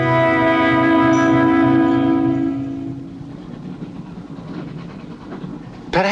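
A train runs on its rails, opening with a strong tonal whine and hum that fades after a few seconds into a lower rolling rumble of the cars, ending on a sharp clank.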